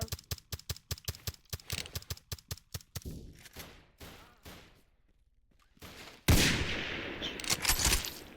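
Video game gunfire crackles in a rapid burst of sharp shots, followed by scattered single shots and then a loud noisy blast, all fairly quiet overall.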